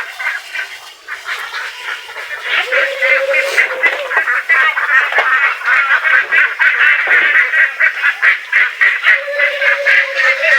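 A flock of Khaki Campbell ducks kept for free-range pond rearing quacks in a dense, continuous chorus, loud and close throughout, with no talking over it.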